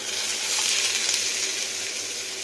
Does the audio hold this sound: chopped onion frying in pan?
yes